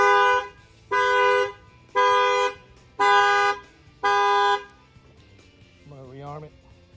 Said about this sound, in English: I'm going to go ahead and bang on the tire, and that will set off the alarm.